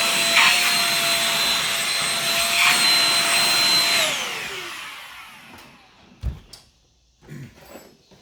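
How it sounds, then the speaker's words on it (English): Vacuum cleaner running inside a Nissan R32 GTR, a loud steady whine that spins down and stops around four seconds, followed by a couple of knocks and thumps. "I'm going to go ahead and vacuum this thing out."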